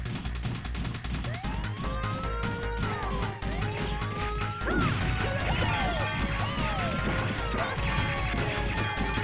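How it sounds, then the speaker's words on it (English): Video game action in The Misadventures of Tron Bonne with a wailing police siren sweeping up and down, punctuated by a loud crash and thuds midway as a street light is thrown at a police car. "Throwing street lights at police cars is always morally correct."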